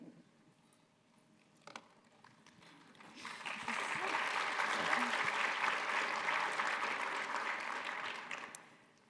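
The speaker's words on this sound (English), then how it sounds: "Thank you for that sweet applause" Conference audience applause for a speaker taking the stage at a presentation, starting from quiet room sound with a stray clap, swelling around the middle into full dense clapping, then tapering off at the end.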